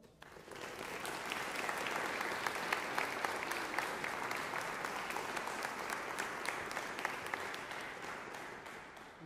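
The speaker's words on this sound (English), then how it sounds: "So we give her a round of applause." Warm, sustained audience applause after a university concert choir performance at Texas A&M University-Kingsville, swelling quickly and holding a dense, even roar of many hands before easing slightly at the end.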